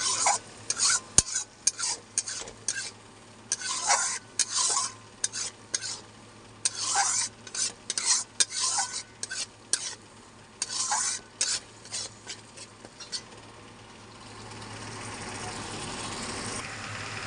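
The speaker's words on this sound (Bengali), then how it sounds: "ভালো করে মশলাটাকে এবার আমি একটু কষে নেবো, যাতে মশলার কাঁচা গন্ধটা চলে যায়।" A spice masala for chicken kosha is stir-fried in a pan: repeated scraping strokes of a spatula sound in quick clusters over a soft steady sizzle, close by. Near the end the stirring stops and only the frying hiss continues.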